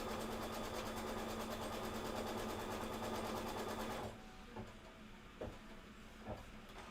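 Sewing machine stitching quilt pieces together, a fast steady mechanical whir running for about four seconds, then stopping and leaving faint handling clicks.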